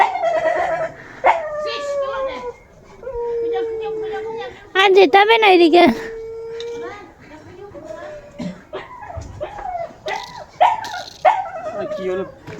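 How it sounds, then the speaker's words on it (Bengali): A dog in Mawlynnong village, Meghalaya, lets out repeated sharp barks, yips and long drawn-out whining howls, loud and near, with a person speaking briefly between the calls. "ডগিটা আওয়াজ করছে বলে দেখতে এসেছে"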